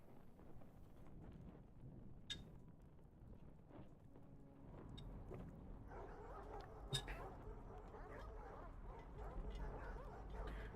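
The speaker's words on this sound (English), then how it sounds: "You awake to the sound of distant barking." Distant dog barking in The Pale Beyond, a polar expedition video game, heard as a few faint, scattered barks under a low ambient wind and game background, with a person talking over it.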